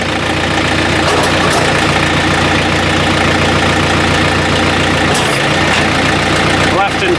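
A plow truck's engine idles steadily with its hydraulics running, a loud, continuous low drone that holds even from start to finish.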